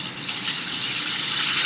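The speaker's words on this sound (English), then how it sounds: "now in it we're going to add a tablespoon of olive oil." Olive oil, about a tablespoon, splashes into a pan with a steady, close liquid gush that runs almost two seconds, ending in a brief brighter spatter.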